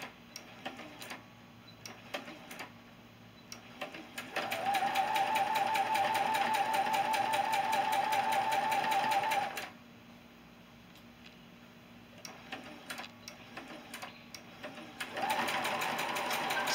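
A sewing machine stitches a quilt four patch block in two sustained runs of fast, even mechanical whirring, separated by quieter gaps with small handling clicks.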